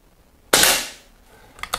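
A single sharp, close shot comes from a brown ambidextrous Air Arms S400 air rifle, followed by two quick metallic clicks.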